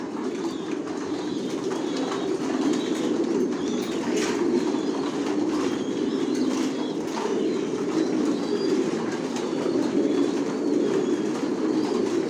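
Racing pigeons of the Johnson line coo steadily in a loft, a dense, continuous layer of overlapping low throaty calls throughout.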